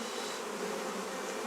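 Honey bees swarm around an open hive during a beekeeper's inspection, making a dense, continuous buzzing hum that stays loud and steady throughout.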